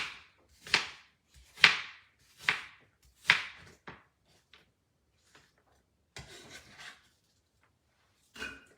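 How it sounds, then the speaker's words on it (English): Knife chopping apples into chunks on a cutting board, four crisp evenly spaced chops followed by a few lighter taps and scraping sounds, close and clear in a quiet room. "So I just cut it into"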